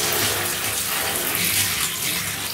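Warm water from a tap runs steadily over a cat being rinsed during a bath, a continuous close splashing and gushing with no pauses and no voices.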